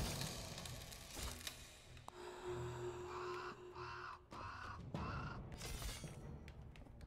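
Crow cawing in the video game Wartile: several short harsh caws in a row, mid-distance, over a bed of game ambience with a few sharp cracking impacts.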